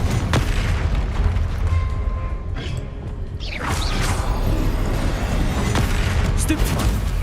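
Spell combat in Hogwarts Legacy ending with a Confringo explosion, a rapid string of loud magical bursts, whooshes and a big boom, dense and close, mixed with game effects throughout.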